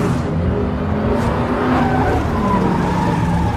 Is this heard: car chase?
yes